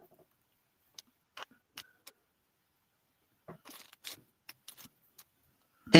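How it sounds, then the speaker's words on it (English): Items are handled during a live sale, giving sparse clicks, taps and short rustles with long quiet gaps between them and a louder clatter at the very end, with no talking. "Sorry for all the rustling, goodness sakes."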